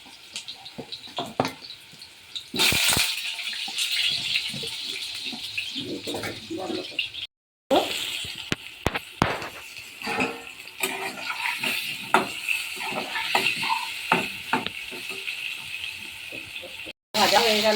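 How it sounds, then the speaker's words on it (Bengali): Potatoes frying in hot oil in a wok, a steady sizzle and hiss with frequent stirring clatters and scrapes throughout, close up, with a brief cut partway through. "কড়াইয়ে তেল গরম হয়ে গেছে, আলুটা ভেজে নেব"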